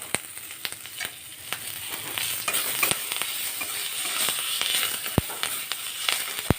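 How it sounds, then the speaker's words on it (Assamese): Curry leaves frying in hot oil give a steady, close sizzle and crackle, with scattered sharp pops and a couple of louder spits near the end. "নৰসিংহ পাতখিনি বেছি ভাজিব নালাগে তেলত"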